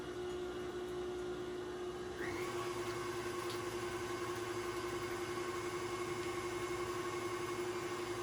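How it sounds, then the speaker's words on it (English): KitchenAid stand mixer whisking waffle batter of eggs: a steady, even motor whir with a constant hum, rising slightly in pitch and roughness partway through, running alone without talk. "I'm going to give that a good whisk. You can use this regular hand whisk if you don't have a KitchenAid."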